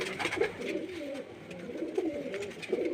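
Small pigeons kept at a house coo repeatedly, their wavering throaty calls rising and falling close by in a steady, overlapping stream without any speech.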